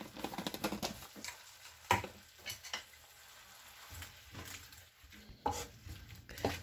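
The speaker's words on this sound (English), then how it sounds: "we'll go ahead and stir that again" Spoon stirring cabbage soup with whole tomato and bay leaves in a pot, scraping and knocking against the sides in irregular strokes, quiet and close, with a faint simmering sizzle underneath.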